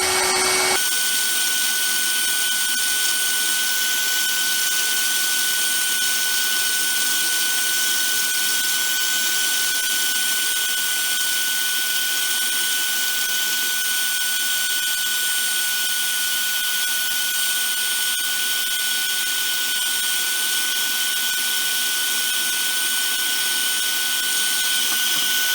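Compressed air blown steadily through drained water pipes to dry them out, a loud continuous hiss with a high whistling tone that holds unchanged for the whole stretch, no voices.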